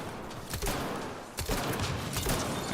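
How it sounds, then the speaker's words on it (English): A grenade launcher fires in a video game, its two loud bursts at roughly half-second and one-and-a-half-second marks blending into a continuous din of combat noise, with no voices heard. "Firing this nade launcher over here like that actually might not be a bad idea."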